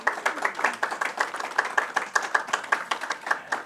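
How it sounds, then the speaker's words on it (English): A small group claps at an event on educational pathways to women's empowerment, with brisk, fairly even handclaps nearby that continue steadily without pause. "Please give her a round of applause"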